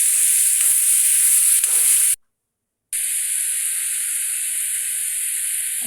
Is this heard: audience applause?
no